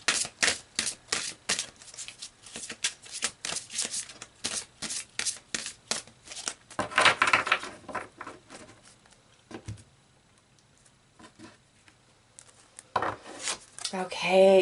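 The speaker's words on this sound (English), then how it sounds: "So let's pull some more cards" Tarot cards are shuffled with a rapid run of crisp, close riffling slaps, then a quieter stretch of sliding and dealing as cards are pulled, ending with a few louder flicks.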